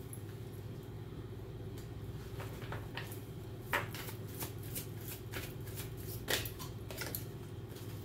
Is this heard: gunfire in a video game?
no